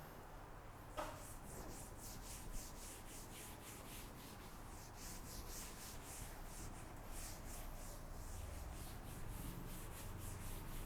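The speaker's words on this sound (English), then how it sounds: "we rub this off" Writing is rubbed off a classroom board with quick, repeated swishing strokes, faint and close, each scrubbing pass following the last in an even rhythm over a quiet room.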